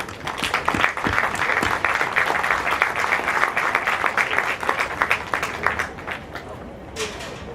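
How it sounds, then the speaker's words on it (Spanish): Audience applause at a Peruvian university event as a dean is invited to the stage, a dense burst of steady clapping that thins out toward the end. "Aplausos, por favor."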